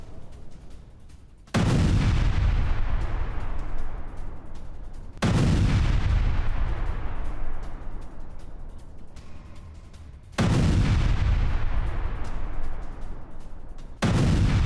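Drone strike explosions at an oil facility in Erbil, three massive booms at regular intervals, each a loud sudden blast rolling into a long decaying rumble, with a fourth starting at the end.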